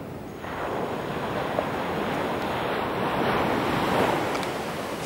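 Ocean waves wash onto a sandy beach in Belek, a steady loud surf rush with gusting wind noise on the microphone and no voices.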